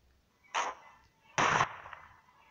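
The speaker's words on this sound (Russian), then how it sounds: "Ну, взрыв гранаты был зашибительный." Two sharp grenade blasts in the online game Hide Online, separated by about a second, each a short burst of noise that fades quickly against a quiet background.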